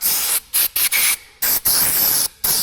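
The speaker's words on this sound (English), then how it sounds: "I want to spray the cables a little bit so they don't rust out" Several short bursts of aerosol lubricant sprayed onto the cables of a 1975 overhead garage door, hissing in quick succession with brief gaps between them, close and fairly loud.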